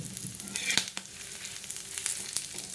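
Black masala spices dry-roasted in a pan for a mutton dish, giving a close crackling sizzle with quick scraping stirs and a few sharp clicks, no talking.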